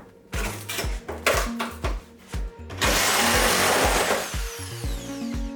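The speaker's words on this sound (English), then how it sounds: "we'll chop these metal ones off of all sides and then rivet" A power tool cuts the rusty metal fender flares off a Mazda Miata offroader project. A string of short, loud bursts comes first, then a sustained harsh grinding cut that tapers into lighter intermittent buzzing.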